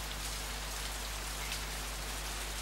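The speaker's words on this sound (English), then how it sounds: "But this rain is beautiful." Steady rain pours in a dense, even hiss with a low rumble beneath, constant and close with no voices.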